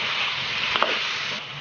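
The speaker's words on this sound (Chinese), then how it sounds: "把西红柿里的汁子炒出来就能出锅了。" Tomatoes and pork with long mild chilli peppers being stir-fried in a wok, giving a brief, steady, close sizzling hiss with a soft scrape of stirring.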